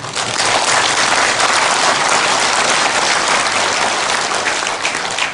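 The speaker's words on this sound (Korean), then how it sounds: "여러분 스스로를 격려하고 자축하는 의미에서 우리 박수 한번" A lecture audience breaking into loud, sustained applause, dense and even throughout the stretch, filling the room without talk.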